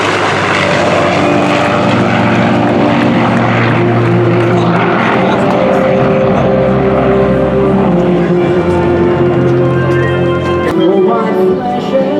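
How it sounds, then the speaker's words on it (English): USAF heritage flight aircraft, including an F-35A, F-16 and P-51, pass over an airshow with a loud, sustained engine and propeller roar. The sound shifts in pitch as they fly by, and faint announcer talk sits beneath it. "We hope you've enjoyed watching this reaffirmation of classic and current United States Air Force aircraft"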